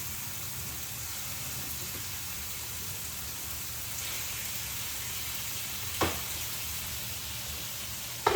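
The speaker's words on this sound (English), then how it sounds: "is it still called grilling if you're just like kind of pan frying it" Steady, close sizzling of food frying in a pan, a constant hiss with a brief clink partway through.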